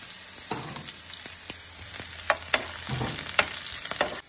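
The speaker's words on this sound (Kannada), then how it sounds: "ತರಕಾರಿನ ಫುಲ್ ರೋಸ್ಟ್ ಮಾಡಬೇಕು ಅರ್ಧಂಬರ್ಧ ರೋಸ್ಟ್ ಮಾಡಬೇಕು ಹಸಿ ಮೆಣಸಿನಕಾಯಿ ಹಾಕಿದೀನಿ" Vegetables with green chili and capsicum roasting in a pan, a steady sizzle with scattered sharp pops and scraping stirs, close up and with no talking.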